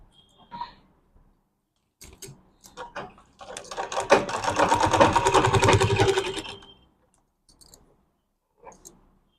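A sewing machine runs a steady stitching burst of about three seconds, sewing cloth over a zip on a medium-sized bag, with scattered clicks and handling taps before and after.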